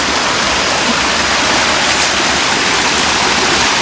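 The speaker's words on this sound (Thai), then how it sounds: "นี่ค่ะคือน้ำใสมากเลยนะคะ แล้วก็น้ำก็เย็นด้วยนะคะ" Clear, cold stream water rushes past a bathing spot as a loud, dense, unbroken roar, close and steady throughout with no voices.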